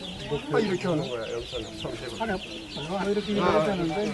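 Chickens cluck busily on a poor village farm where chicks were given out to households, with dense overlapping clucks and calls close by and a person speaking faintly beneath.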